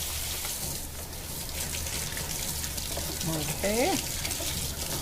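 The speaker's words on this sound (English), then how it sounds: "All right, let me rinse this out very quickly." Running tap water in a kitchen while something is rinsed out, a steady hissing splash throughout, with a voice speaking briefly near the end.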